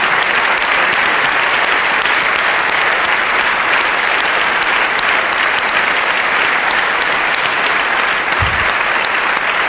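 A large audience at a queer film award panel discussion breaks into loud, sustained applause that fills the room at an even level throughout, with dense overlapping claps and no voices standing out.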